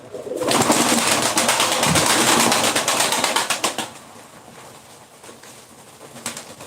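Pigeons at a live Ankara bird auction burst into a loud flurry of flapping wings for about three seconds, then fade to a quieter background with scattered soft wing sounds and faint coos.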